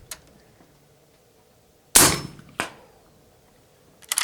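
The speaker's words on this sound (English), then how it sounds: "we got the Bighorn Armory 460 S&W Magnum here. We got the bearing suppressor on there and some subsonic ammo" Two sharp, loud reports from a suppressed Bighorn Armory 460 S&W Magnum firing subsonic ammunition, the second about half a second after the first and each decaying quickly, with a third transient just starting at the end.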